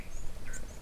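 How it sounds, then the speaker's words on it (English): Wild birds calling at a bush waterhole where elephants gather, a faint high chirp and a short whistled call over a steady low outdoor rumble, with no one speaking. "It's nice hearing the birds in the background."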